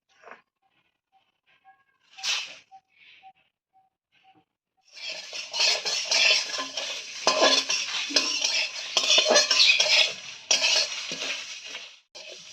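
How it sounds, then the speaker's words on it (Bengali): Whole spices for a jujube pickle (coriander, five-spice, dried chillies, cumin, bay leaf, fennel) dry-roasted in a pan, a few faint clinks first, then a long stretch of busy, rattling scraping and stirring, close and fairly loud, no speech. "আমরা শুকনো খোলায় সুন্দর করে মশলাটাকে ভেজে নিয়েছি"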